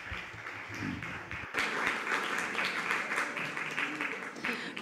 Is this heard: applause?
yes